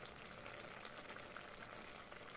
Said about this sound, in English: Boil it for 15 minutes.